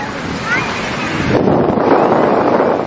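Ocean waves wash and rumble steadily with gusty wind buffeting, a broad roar that swells partway through.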